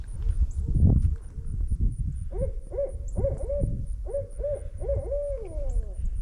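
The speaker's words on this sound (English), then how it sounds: "That's the barred owl." A barred owl gives a series of rhythmic hoots, several in a row, with a rougher rustling sound just before them, out in the woods.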